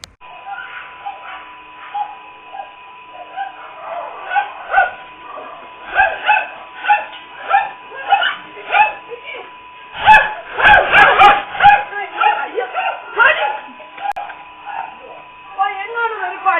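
Dog barking and yipping in a home, with repeated sharp barks in bursts and a busier cluster in the middle, mixed with a constant electrical hum and some talk.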